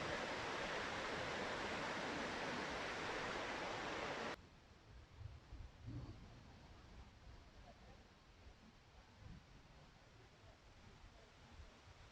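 A waterfall in Doi Suthep-Pui National Park pours with a strong, steady roar of rushing water. The loud wash drops after a few seconds to a softer, continuous rush.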